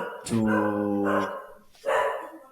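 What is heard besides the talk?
dog barking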